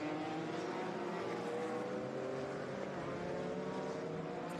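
A 2014 Ferrari 458 race car roars past at Laguna Seca, a loud, sustained engine note with shifting pitch filling the whole moment.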